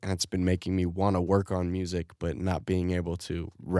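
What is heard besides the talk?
No everyday noise stands out behind the speech.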